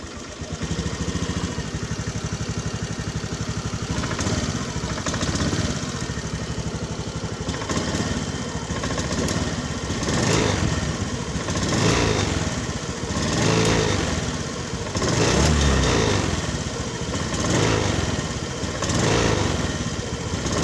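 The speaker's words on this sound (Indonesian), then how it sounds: "Oke, kita hidupkan untuk melihat kondisi pada motor" A Honda Beat scooter engine, sluggish and unresponsive, runs with a close, steady putter and rises in several repeated revs across the whole stretch, with no voices.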